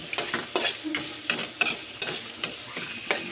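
Vegetables sautéing in a pan for Filipino ginisang gulay, with a spatula stirring in quick rhythmic scrapes and clanks over a constant close sizzle.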